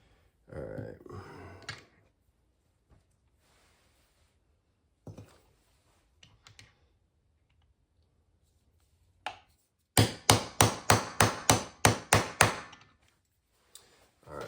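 A hammer pounds at the stuck mid drive shaft of a Traxxas XRT 12s belt-driven monster truck: a few scattered taps and knocks, then a loud rapid run of about nine heavy metallic blows, close by.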